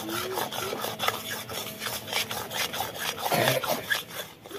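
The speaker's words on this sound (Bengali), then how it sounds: "এবার নাড়াচাড়া করবো। এটা অনেকক্ষণ নাড়াচাড়া করতে হবে, একটু ঝুরঝুরে হবে।" A spoon works through a spiced potato mixture with Kashmiri chili powder in a pan, stirring steadily. The scraping and rubbing repeats in a soft, continuous rhythm, close up, and no one talks.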